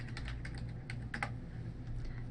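Typing on a computer keyboard while entering an image search, a steady run of quick, close key clicks with a few louder strokes, no talking.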